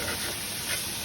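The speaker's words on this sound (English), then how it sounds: "just saute your vegetables and scrape up all that brownness" Vegetables sautéing in a pan deglazed of hamburger-patty browning give a steady, close hiss and sizzle for a brief moment.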